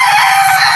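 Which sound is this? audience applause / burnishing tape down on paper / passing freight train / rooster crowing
rooster crowing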